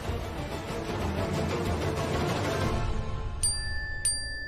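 Phone notification chimes twice, clear bright dings near the end, following a stretch of muffled indoor background noise.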